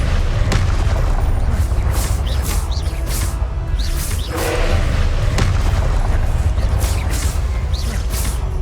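Magic blasting spell explosion effect in a Spider-Man wizard-training action sketch, a loud continuous rumble with several sharp booming whooshes and bursts spread across the span.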